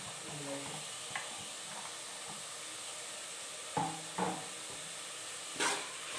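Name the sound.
fresh green peas frying with masala in a pan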